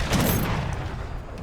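Culverin cannons fire in the strategy game Age of Empires 3, a dense rumbling boom of overlapping shots, close and loud, fading slightly over a second and a half.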